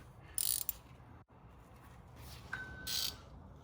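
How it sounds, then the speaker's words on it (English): A ratchet wrench turning on a Jeep Cherokee sway bar link: two short, quiet bursts of rapid metallic clicking, separated by a pause, with faint mechanical handling between them. "Let's see if we can do it with just the wrench, with the ratchet, I mean."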